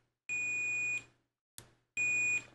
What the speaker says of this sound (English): this one is a really convenient feature that just beeps if two things are electrically connected